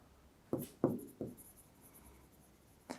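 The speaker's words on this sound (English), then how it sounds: "I will write down the features." Pen strokes of handwriting as notes are written down, a few short scratchy marks close by in a quiet room, with no talking.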